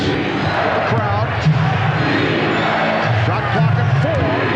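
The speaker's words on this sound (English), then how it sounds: "Chant of defense with the crowd." Arena crowd at a 1996 NBA Finals game, Seattle SuperSonics hosting the Chicago Bulls, chanting in a steady rhythmic roar that rises and falls and fills the space.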